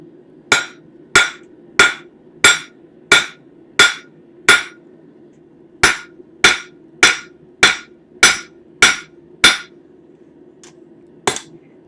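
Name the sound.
hammering stainless steel to taper a spoon handle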